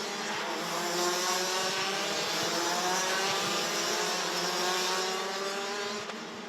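DD2 racing kart engines at a track during a pre-final race, a sustained high buzzing two-stroke drone with layered harmonics, steady and fairly loud, as karts run together at a distance.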